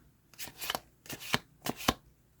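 A tarot deck is shuffled three times in quick riffling bursts separated by short pauses, close and crisp in a quiet room.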